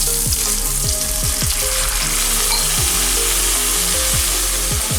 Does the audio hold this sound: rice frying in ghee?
yes